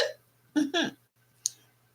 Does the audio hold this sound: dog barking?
no